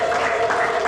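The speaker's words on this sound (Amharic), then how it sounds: "እስቲ እልልታ ጭብጨባ ለእግዚአብሔር" A church congregation claps and ululates together, a dense, steady wash of applause with a high, sustained trilling cry running through it, heard only briefly.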